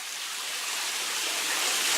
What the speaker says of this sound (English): And the water wall's running.